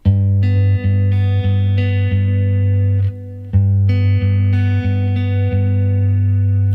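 Guitar plays an easy arrangement of a song, with clear sustained low notes and plucked melody tones repeating in a steady pattern and one short pause midway, all played alone without talking.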